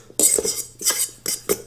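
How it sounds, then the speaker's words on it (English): Keto protein bread batter for egg-white Hawaiian sweet rolls being mixed in a bowl, a spoon or whisk clinking and scraping against the sides in several quick bursts, close and fairly loud with short pauses between. "I'm going to mix this first."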